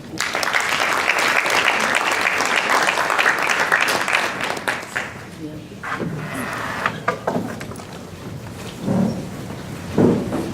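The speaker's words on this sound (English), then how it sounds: "Please give a round of applause to Pat Red," An audience applauds performers loudly for about five seconds, then the clapping tapers into scattered claps and voices.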